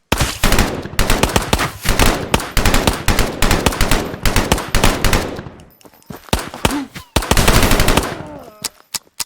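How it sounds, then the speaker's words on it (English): A Thompson submachine gun in Ghosts of Tabor fires loud, rapid bursts of heavy automatic gunfire, close and dense, with a short lull before a final volley trails off into single shots. "The Thompson is thunderous and super effective."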